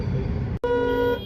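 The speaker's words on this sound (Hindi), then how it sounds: "कुछ नहीं होगा हॉर्न बजाने से" Car horns blare in a Delhi traffic jam near Rohini Sector 17, one steady honk cutting off briefly and then sounding again as a long, loud, sustained toot over the low rumble of idling traffic.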